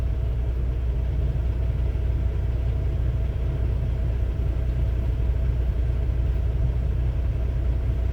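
Trucks at a truck stop pull out of the lot. A constant, deep engine rumble fills the whole stretch, loud and unchanging, with no voices over it.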